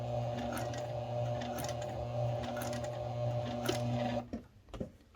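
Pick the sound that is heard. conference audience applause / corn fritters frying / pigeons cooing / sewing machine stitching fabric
sewing machine stitching fabric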